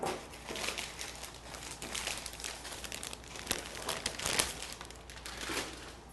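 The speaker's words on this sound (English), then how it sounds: "So what we'll do is just unwrap this bouquet." Crinkly plastic wrapping is pulled off a Whole Foods fall flower bouquet, continuous close crumpling and rustling with some tearing, fairly quiet, with no talk.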